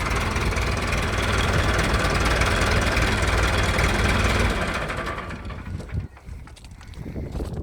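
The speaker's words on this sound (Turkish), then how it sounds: "Şöyle birlikte durduralım traktörümüzü" A 265 S tractor with creeper gear rumbles loud and steady close by, then its engine noise drops away after about five seconds, leaving quieter, irregular low sounds.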